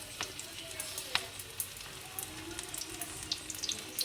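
Small hilsa fish frying in hot oil, with a soft, steady sizzle and scattered crackles and pops near the pan, fairly quiet throughout.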